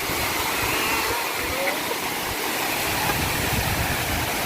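Orekkar waterfall in a Kerala forest roars as a loud, dense, unbroken wash of falling water close by, filling the whole space without pause.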